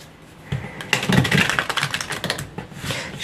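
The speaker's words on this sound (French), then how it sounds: "Je mélange beaucoup les cartes." Playing cards shuffled for a tarot-style reading, a dense run of quick papery riffles and flicks, close and moderately loud, continuing steadily with no speech over it.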